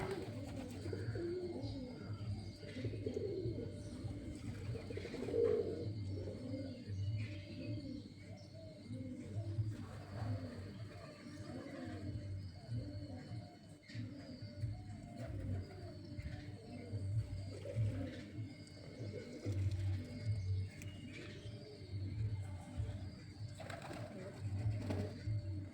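Pigeons coo repeatedly after bathing in water, with soft, rhythmic throaty calls overlapping at moderate distance throughout, joined by an occasional faint chirp.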